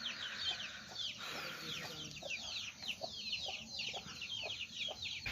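Domestic chickens in a hill village in Assam cluck repeatedly in short, rhythmic bursts, fairly soft and close, with a steady outdoor background.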